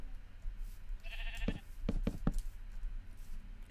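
A Minecraft sheep bleats in a short wavering call, followed by a few sharp knocking thuds, all over a low steady background with no talk.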